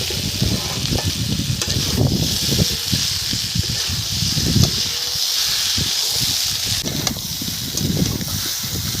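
Food fries in a pan during home cooking before lentils are added, giving a continuous broadband sizzle and hiss with scattered crackles and occasional stirring scrapes, steady and close throughout.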